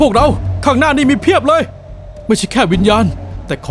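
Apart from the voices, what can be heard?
No distinct noise like a dog, phone or traffic.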